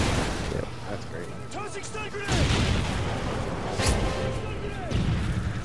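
Explosions and gunfire in a Call of Duty: Modern Warfare 3 multiplayer match: loud booms and crashes land over a constant dense roar of battle, with sharp bursts recurring every second or two, while voices talk underneath.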